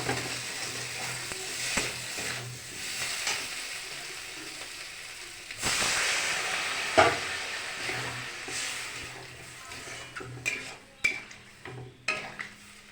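Fried spice masala for a potato and green pea curry takes an added splash of water, setting off a burst of hissing sizzle, then scattered clinks and scrapes of stirring in the pan, fairly quiet overall with no talking.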